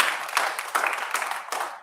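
Scattered clapping from a council meeting audience, uneven bursts of hands rising and fading over about two seconds, fairly quiet and somewhat distant.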